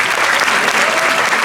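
Loud, dense applause from an audience at a Breton dance contest in Gourin, greeting the dancers after a Rond de Sautron, steady and unbroken throughout.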